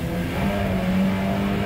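A boat engine drones steadily and fairly loud with a low hum while the boat travels along the Umpqua River, with no one talking.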